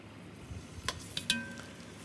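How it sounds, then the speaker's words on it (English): Pork sizzles quietly in a hot cast-iron skillet, with a few sharp crackles and pops standing out from the low frying hiss. "we've got a sizzle going on there"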